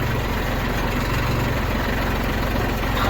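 New Holland 757C backhoe tractor engine pulling slowly in low gear, a continuous close, rough low rumble with a steady chugging texture and no voices.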